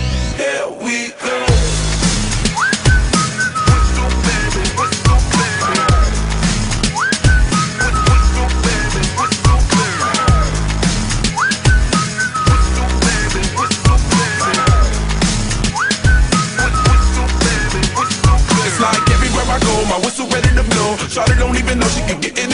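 A pop song plays its catchy whistled melody over a thumping beat. The short whistled phrase repeats many times across the track.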